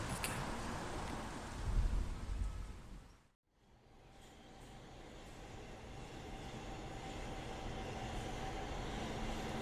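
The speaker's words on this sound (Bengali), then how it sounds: "রাতে ঘরে ফেরার মেট্রো রেল তাকে নিয়ে দুলতে দুলতে ছুটে চলল।" A metro train running as a sound effect in an audio drama, a continuous rumbling rattle of rail cars that briefly drops out and then builds back into a steady rolling drone with faint clatter, with no voices.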